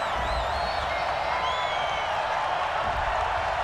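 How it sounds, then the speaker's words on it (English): A home crowd in a Madden football simulation, Giants at Patriots, lets out a steady, broad roar of disapproval over a penalty call, a dense wash of many voices holding evenly throughout with no single voice standing out. "Some boos coming down right now from this home crowd after that call."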